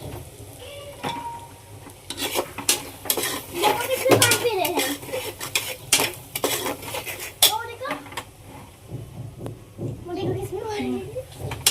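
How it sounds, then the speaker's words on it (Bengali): Masala spices fry with onions in a pan for goat liver bhuna, a metal spoon scraping and clattering against the pan over a soft sizzle, while people, including a child, talk nearby. "মশলাটা এবার আমি একটু ভালো করে ভুনে নেব পেঁয়াজের সাথে"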